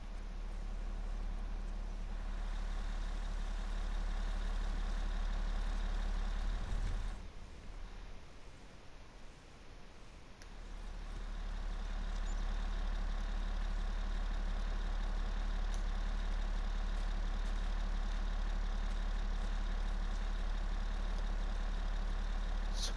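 A car engine idles in a post-apocalyptic video game scene, a steady low rumble that dips and thins for a few seconds midway before returning to its constant drone, with no voices.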